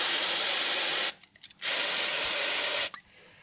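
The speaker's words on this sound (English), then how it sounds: "Just a little bit of carby cleaner, and hopefully it just keep that area a little bit cleaner and prevent any form of contamination." Carburetor cleaner hisses from an aerosol can onto a Toyota Hilux D-4D engine during rocker cover gasket work, two close, loud bursts of spray separated by a brief pause, with no talking.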